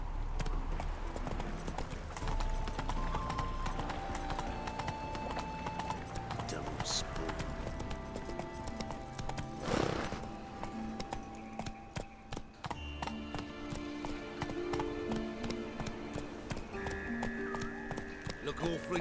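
Hooves of the horse Roach clip-clop steadily in The Witcher 3, with a whinny partway through, all under game music and a voice talking.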